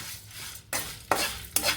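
Okra frying in a pan, with sizzling that surges in three bursts as it is stirred.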